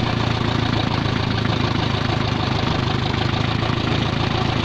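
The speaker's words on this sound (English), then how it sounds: "We are driving a tractor." A tractor engine runs at a steady idle, giving an even, continuous mechanical drone with a low rumble throughout and no voices.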